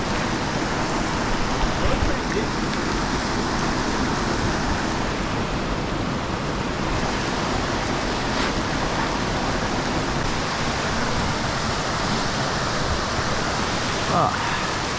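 An Arkansas waterfall pouring down into a pool, a loud, constant roar of rushing water close by, with a brief spoken remark over it.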